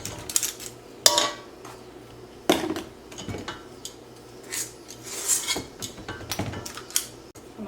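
Spatula scraping leftover cookie dough from a mixing bowl during fall pecan cookie baking, a series of soft rasping strokes and a few sharper clinks of the utensil against the bowl, close and unaccompanied by speech.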